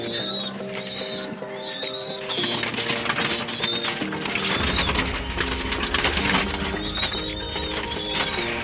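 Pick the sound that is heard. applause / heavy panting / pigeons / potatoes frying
pigeons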